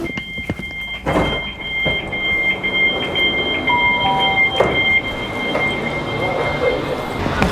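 A Great Northern train approaching Finsbury Park, London, rumbles along with rhythmic clunks from the track and a steady high whine, heard from inside a first-class carriage.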